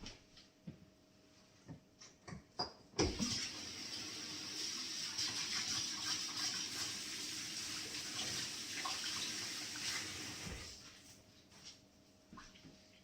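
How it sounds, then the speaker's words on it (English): Kitchen faucet running as hands are washed, a steady rushing stream of about eight seconds preceded and followed by scattered clicks and knocks of handling. "Let me wash my hands."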